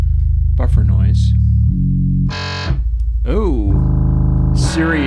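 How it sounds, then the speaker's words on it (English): An Airwindows distortion plugin processes tones that grow louder and more distorted, with harsh buzzing harmonics, abrupt pitch jumps and gritty buffer noise glitching between sustained electronic notes. "It gets louder and more distorted sounding. And it's real frisky with the buffer noise."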